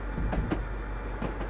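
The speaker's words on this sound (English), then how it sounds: "Well, that's a long tank train." Long tank train of freight cars rolling past in Train Simulator 2022, a steady low rumble with rhythmic wheel clacks over the rails, heard from close by at a moderate level.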